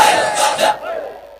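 A crowd at a religious gathering shouts a slogan in loud unison, a dense roar that holds for under a second and then fades into lingering echo.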